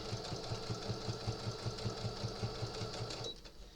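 A sewing machine stitches a rag lap quilt, its needle chattering in a fast, steady rhythm for several seconds before stopping abruptly, close and loud with no talk over it.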